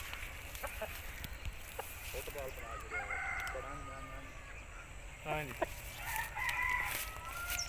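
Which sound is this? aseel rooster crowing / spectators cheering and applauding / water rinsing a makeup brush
aseel rooster crowing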